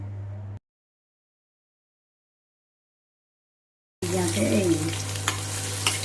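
Ginger, chillies and garlic frying in oil, heard as a brief crackle that cuts off into silence, then returns as a steady close hiss for about two seconds.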